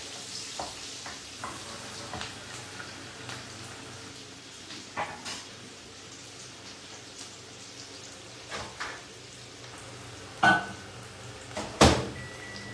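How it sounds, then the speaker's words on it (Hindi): Onions frying in a pan at home, cooked lightly until pink: a soft, steady sizzle with scattered scrapes and clatters of stirring, plus a few sharper metallic knocks near the end. "प्याज को हमने बहुत ज्यादा कुक नहीं करना है, सिंपल सा एक लाइट पिंक होने तक हम इसको कुक करेंगे।"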